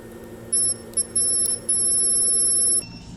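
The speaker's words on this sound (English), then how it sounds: "let's get the multimeter and we check if there is any short for this component here." A multimeter in continuity mode gives high-pitched electronic beeps while probing a component on a KOHLER 8-10EOZD boat generator circuit board. Several short beeps are followed by one long steady tone, close and clear over a low hum.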